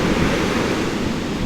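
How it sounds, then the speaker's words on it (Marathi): Big sea waves wash onto a sloping shore in a steady, loud roar of surf that fills the whole moment with broad rushing noise and no voices. "खूप पाणी आहे, मोठ्या लाटा आहेत"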